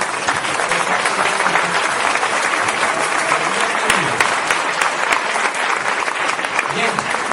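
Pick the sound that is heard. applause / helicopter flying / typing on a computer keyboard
applause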